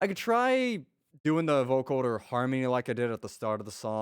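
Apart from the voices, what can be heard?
No everyday noises stand out.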